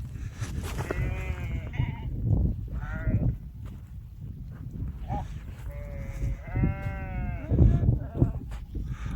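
A flock of sheep bleats at dusk as a shepherd moves them toward their resting ground, several wavering calls rising near and far amid shuffling, with little or no talk.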